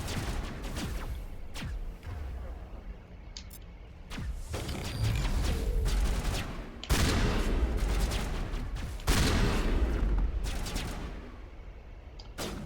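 Assault rifle fire in Mass Effect as bursts and rapid shots from a firefight, set among thumps and game effects, fairly faint and without talk.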